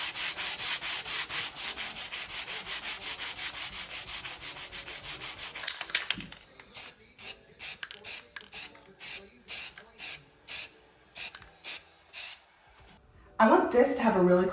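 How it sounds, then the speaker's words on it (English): Spray paint or primer hisses steadily at close range in a long continuous burst, then a series of about eight short, evenly spaced spray bursts on board and batten wall molding, before a voice begins speaking at the end. "when it's dry, sand it smooth"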